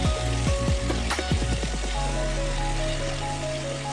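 Chopped capsicum and onion sizzle in a pan, with a few sharp clatters of stirring early on and a steady, close frying hiss that continues alone.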